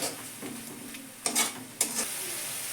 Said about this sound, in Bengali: আর চাট মশলার গুঁড়ো এবার মশলা দিয়ে একটু কষবো